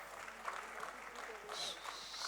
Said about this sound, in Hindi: तालियां बजाते रहिए प्लीज,